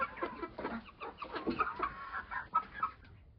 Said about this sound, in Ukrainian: Кури от виглядають, їсти просять